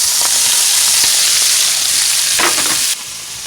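Egg rolls fry in oil in a pan with a loud, steady sizzle, joined by a brief scrape or stir near the end before the hiss drops slightly.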